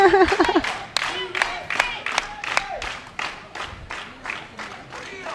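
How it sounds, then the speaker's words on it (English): A crowd claps and cheers at a women's world bowling championship doubles final, a burst of loud applause fading gradually into scattered claps, with a voice talking over it. "You can see everybody clapping here."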